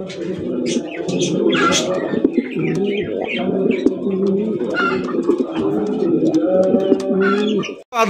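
A pair of royal pigeons cooing close by: continuous low, throaty, rolling coos overlapping one another, with a few higher chirps mixed in.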